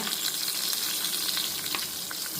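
Dried red chillies and asafoetida fry in hot oil for a chutney, giving a steady, even sizzle that carries on unbroken with no voices.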